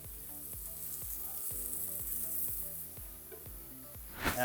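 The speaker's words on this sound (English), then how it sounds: "We're gonna go ahead and give this one a flip and add the garlic to the pan." Garlic slices and a pork chop sizzling in a hot frying pan for pork piccata, a steady, close crackle of frying fat with a faint rhythmic tapping underneath and a brief louder flare at the end.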